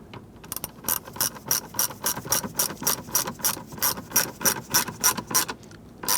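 Rapid ratcheting of a screwdriver or ratchet tightening the screws on a 1994-2004 Ford Mustang headlight knob, a steady run of close, crisp clicks in an even rhythm with no talk.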